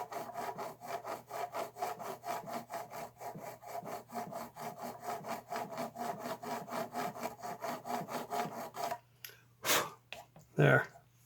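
Steady back-and-forth rasping strokes of a file cleaning up the string slots of a guitar nut, rhythmic and close, ending with a few louder separate scrapes.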